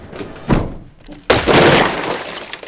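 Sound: truck cap camper back window glass shattering

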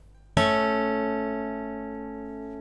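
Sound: major third interval played

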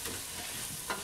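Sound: onion frying in a pan

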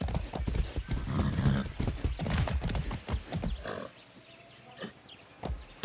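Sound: horse hooves clip-clopping, from video game Far Cry 6

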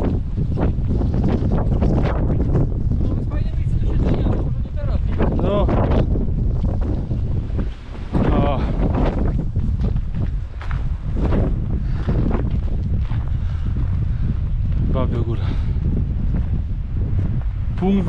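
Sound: wind blowing on a mountain meadow

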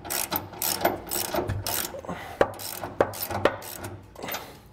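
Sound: socket and breaker bar removing large bolts

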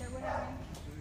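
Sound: small dog barking on street

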